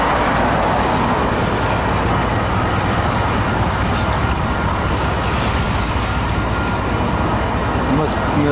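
A long freight train rolls steadily ahead toward a rail yard, a continuous broadband rumble of wheels and cars holding at a constant close level for the whole stretch.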